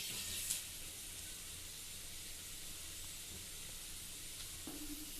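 Cumin and mustard seeds sizzle faintly in two spoons of hot oil, a soft steady hiss with a light pop near the start, low and continuous throughout.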